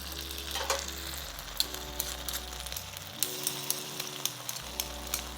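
Hot pepper paste sizzles and fries in a pan during beef and broccoli cooking, a steady close crackle with small stirring clicks and pops.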